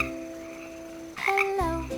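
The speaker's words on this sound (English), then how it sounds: "Frog." A frog croaks in a short, loud burst near the end, standing alone after a quiet tonal lead-in.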